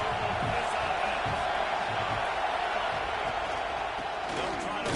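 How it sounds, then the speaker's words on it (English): A college football stadium crowd at an Iowa State versus Michigan game roars steadily, a dense, loud wall of noise with no break. "This crowd trying to make life miserable for this offense."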